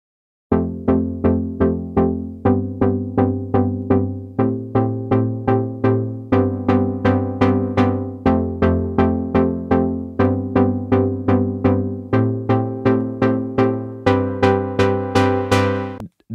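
A melodic house synth chord loop from the Aura sample pack plays alone, repeating short plucked chord stabs in an even rhythm with bright layered tones and no voices.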